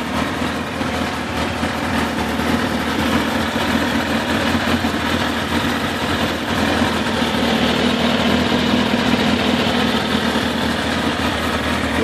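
A repaired car engine, rebuilt with a single exhaust in the original 2002 style, idles at close range with a steady, even drone and no voices.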